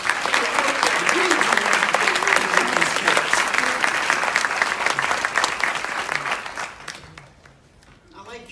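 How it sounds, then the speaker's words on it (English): A room of educators clapping, a sustained round of applause from a large audience that fades out near the end. "let's give each other and ourselves a round of applause for the work that we"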